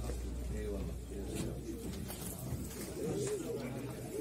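A young pigeon coos in soft repeated calls amid a busy bird auction in Ankara, with a steady crowd murmur and background hum underneath.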